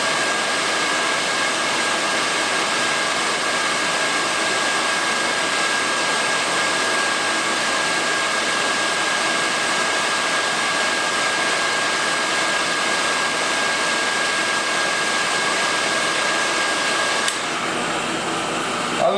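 An Acer milling machine taking light hard-turning cuts produces a steady, dense, loud mechanical whir with a faint high whine, running unbroken for the whole span, with no talking.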